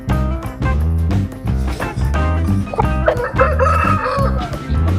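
A fighting rooster of a game breed, readied for Sankranti cockfights in the Godavari region, crows and clucks loudly and close by in repeated harmonic calls with short pauses between them.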